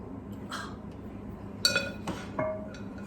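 Metal pans and kitchenware clatter and clink in a few separate bursts as someone rummages for a special pan to cook pancakes, with quiet pauses between the knocks.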